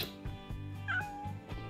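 A rescue cat gives a short, faint meow indoors, heard once amid soft background clatter with music-like tones.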